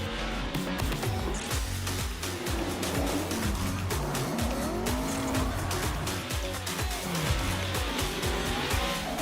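Drift cars at Formula Drift Long Beach practice, tires squealing loudly and continuously as engines roar and rev through the run, with rapid gear-change pulses and a dense, unbroken wall of motorsport noise.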